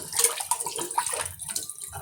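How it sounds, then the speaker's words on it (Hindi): Water pours steadily into a pot of chicken soup being prepared, a close, continuous gushing splash with no talking. "थोड़ा सा पानी और डालूंगी मैं, ये थोड़ा सा और जाएगा।"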